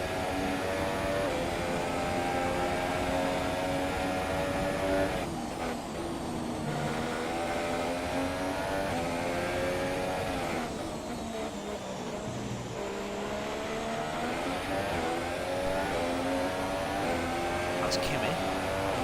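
Formula One race car engines in the F1 2017 video game at the U.S.A. round, a continuous loud high-pitched whine that rises and falls with shifts and passing cars, while someone talks over it.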